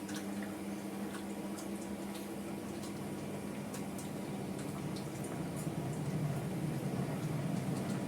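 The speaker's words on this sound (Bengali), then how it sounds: "এই দেখ ডাল ফুটছে" Dal (lentils) simmering in a pot on an induction cooker, giving a steady soft bubbling and liquid burble that holds at an even level throughout, heard from a short distance with no talk.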